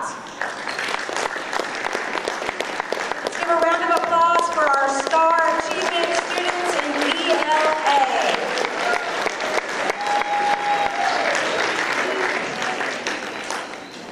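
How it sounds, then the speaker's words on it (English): A school board meeting audience gives sustained applause for STAR Achievement students, with dense clapping that continues loudly for about fourteen seconds before easing slightly at the end. A few voices and cheers sound faintly beneath it. "Let's give a round of applause for our STAR Achievement students"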